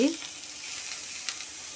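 Brinjal (eggplant) pieces frying in a pan, giving a steady close sizzle throughout after a short clink at the start.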